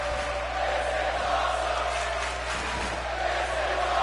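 Arena crowd at a Japanese professional wrestling supercard roaring and cheering steadily after a superplex off a ladder, a dense wash of voices holding at a loud level throughout.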